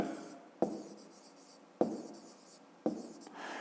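Pen or chalk writing by hand during a maths lesson: three crisp taps as strokes begin, each trailing into a soft scratching glide, close and quiet with no talk.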